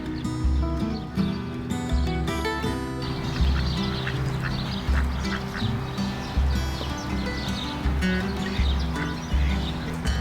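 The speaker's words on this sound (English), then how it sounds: "a duck flying by at a great rate of knots" A duck in botanical gardens quacks repeatedly and loudly close by, the calls continuing steadily without any talking.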